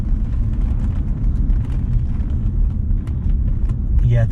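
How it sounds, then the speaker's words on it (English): A car engine idles on LPG with a badly blowing exhaust, giving a steady, close, loud low rumble that holds throughout. "The exhaust is blowing quite badly."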